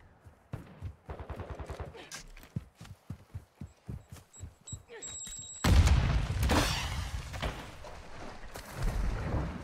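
Gunfire in Call of Duty: Modern Warfare II: a string of sharp single shots in uneven rhythm, then a louder, dense burst of firing and impacts, with talk mixed in.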